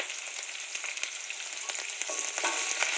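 Onion, green chili and garlic frying in oil with browned coconut pieces for a chicken curry, giving a steady, close hiss and crackle throughout with no voices.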